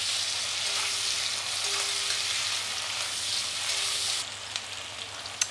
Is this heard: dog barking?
no